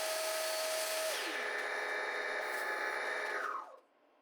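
A steady high-pitched whine of a spinning lathe with sanding friction as the rim of a turned bowl is sanded, the pitch dropping as the machine spins down at the end.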